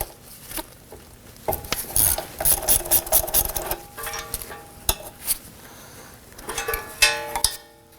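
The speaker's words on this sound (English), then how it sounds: "Using a 14mm socket, we're going to loosen and remove this bolt." A ratchet on a 14mm socket loosens a bolt near the front ABS wheel speed sensor of a 2018-2024 Toyota Camry, giving close, irregular bursts of clicking and metallic clatter with short pauses between strokes.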